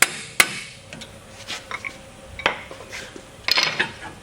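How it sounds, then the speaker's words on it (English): Metal tapping on a car axle while driving it into a Windstar wheel bearing assembly, a handful of sharp, irregular clinks spread out and fairly faint, with no talk. "Now tap on that axle and drive it in further."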